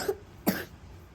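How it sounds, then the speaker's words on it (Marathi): Two short, dry coughs sound close to the microphone in a quiet room, the second slightly stronger, with a brief pause between them. "खोकला येतोय"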